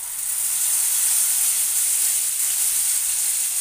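Ground spice mix hitting a hot pan, a loud steady hiss and sizzle heard up close without a pause.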